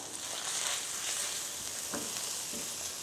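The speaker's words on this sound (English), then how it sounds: "Add all my seasonings. Give those a stir." Seasonings fry in a pan over medium heat for pasta puttanesca, giving a faint, steady sizzle. Soft scraping from stirring breaks through now and then, with no talking.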